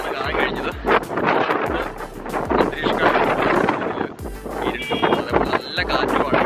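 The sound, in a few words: strong wind on Pamban Bridge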